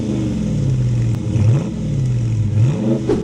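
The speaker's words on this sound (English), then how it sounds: "And then down here, you got your exhaust pipes. I'll make sure to put in an audio of how it sounds like" 2023 Dodge Challenger R/T with HEMI V8 exhaust revving up close, a loud deep rumble swelling in repeated throttle blips with sharp rises and drops.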